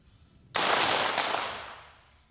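A sharp blast of simultaneous pistol fire at a women's 25m shooting event, loud and close, with a second overlapping report and a long fading tail, no talking.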